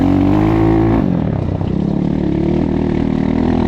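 A KAYA 512 motorcycle engine pulls hard under acceleration while riding, a loud continuous drone with a pitch that dips and then climbs again, close to the microphone with no voices.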